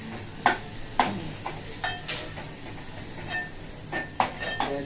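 Cumin and spices crackle and sizzle in hot oil during Gujarati cooking, with a steady hiss broken by soft pops and the clink of a stirring spoon at irregular intervals.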